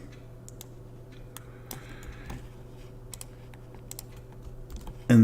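Someone types on a computer keyboard, a sparse series of light, close key clicks at an uneven pace over a quiet room hum, ending with a brief louder thump.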